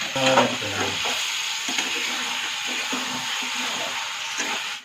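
Chicken leg pieces frying in a pan for bhuna are stirred, giving a loud, steady sizzle with scraping stir sounds up close, and a voice talking briefly at the start.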